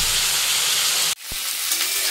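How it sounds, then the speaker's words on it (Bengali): Potato, pointed gourd, carrot, beet, capsicum, long beans and peas fry in a pan for navratan paneer, giving a steady loud sizzle that breaks off briefly, then carries on more softly. "নবরত্ন পনিরের জন্য সব সবজিগুলো আমি ভেজে নিচ্ছি।"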